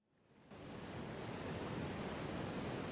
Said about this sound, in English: Large waterfall ambience.